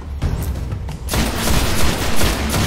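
Rapid gunfire in the video game Destiny, a dense burst of overlapping shots that swells into a loud, sustained fusillade after a brief lead-in, with no talk.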